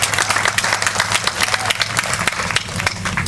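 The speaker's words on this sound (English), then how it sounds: "Give Commander Lasicki a round of applause for all that he does for Carteret" An outdoor crowd at a 9/11 memorial service in a park applauds, with distinct, close individual claps standing out over a busy bed of clapping that stays loud and uneven.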